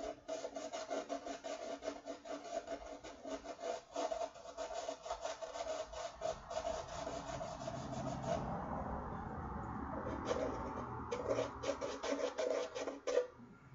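Coarse-grit sandpaper rubbing over a wooden surface to strip old varnish, a steady close scratchy rasp in quick back-and-forth strokes that turns to a smoother sustained stroke partway through, with no talking.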